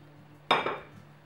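A spoon strikes and scrapes a bowl once while kefir batter is mixed with flour, a single short clink and scrape, close and fairly quiet, with no talking.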